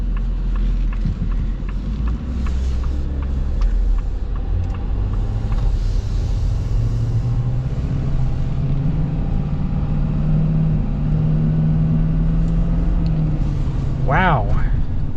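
A 2025 Ford Super Duty diesel truck drives with a steady low engine rumble that rises gradually in pitch, loud and continuous, with a brief squeal near the end.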